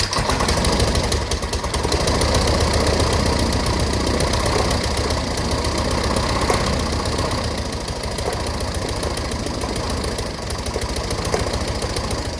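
An aircraft piston engine runs rough with an ignition problem, a loud, steady close-up drone with uneven knocking pulses throughout and no break.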